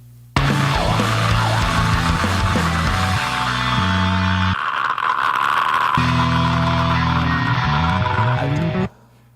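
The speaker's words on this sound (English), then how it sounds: "I'm just going to scream my face off right at the end of the song" A raw, sustained rock vocal scream closes out a song, loud and unbroken for about eight seconds over dense band accompaniment before cutting off.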